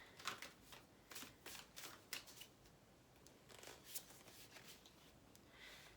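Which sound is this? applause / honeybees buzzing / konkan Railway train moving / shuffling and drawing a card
shuffling and drawing a card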